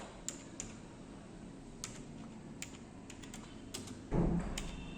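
Fingers tap steadily across a computer keyboard at a school computer lab while typing into a word processor, soft close clicks in an irregular stream, with a louder low thump near the end.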